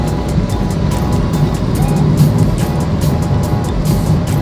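Expressway traffic rolls past in a continuous loud roar of tyres and engines, with repeated brief whooshes of vehicles going by close and no pauses.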